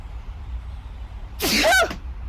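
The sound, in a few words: sneeze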